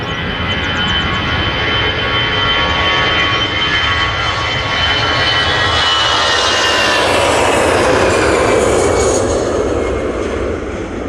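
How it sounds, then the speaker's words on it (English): An EasyJet jet airliner departing Manchester toward Amsterdam, its engines building from a whining roar into a louder, brighter rumble as it passes fairly close, no talk over it. "And that's that EasyJet to Amsterdam"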